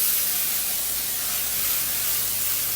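Cooking spray hisses from a can onto a 9 by 13 baking pan in a home kitchen, one steady, continuous hiss lasting a few seconds, close and alone.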